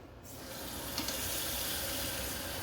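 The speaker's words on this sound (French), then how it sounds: "Je vais les couvrir d'eau." Tap water pours steadily into a pot to cover eggs in a kitchen, a continuous close gushing rush that swells slightly and holds alone without talk.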